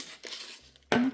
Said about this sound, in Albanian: Dhe tani vazhdojmë që me ndihmën e një thike të sprehtë ta prejmë ëmbëlsirën